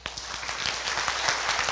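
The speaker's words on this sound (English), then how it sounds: "So give us all a round of applause" A school audience at a Christian school production applauds, a dense wash of many hands clapping that builds over a couple of seconds and carries on steadily at moderate distance.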